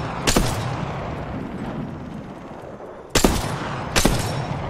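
Three sharp charged energy-rifle shots in a squad shooter game, one early and two close together near the end, loud over a steady rumble of game ambience.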